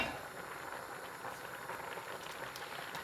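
A pot of milk and potato soup bubbling at a steady boil, giving a continuous close hiss and soft gurgle with no talk over it.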